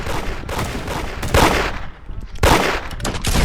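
Rapid gunfire from the Roblox game Da Hood crackles in dense, overlapping bursts, with louder clusters of shots at intervals over a steady backdrop of game noise.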